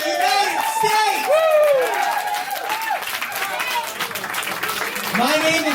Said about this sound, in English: Everyone give a round of applause for Bernie, the next president of the United States!